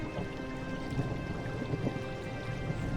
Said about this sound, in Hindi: देखते ही देखते जादुई तूफान और मूसलाधार बारिश शुरू हो गई